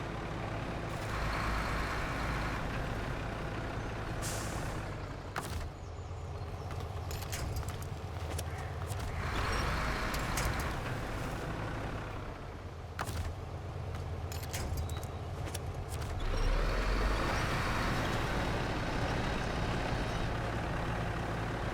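A truck engine in the video game SnowRunner strains at its limit, droning and labouring with surges, over clanks and creaks from the vehicle.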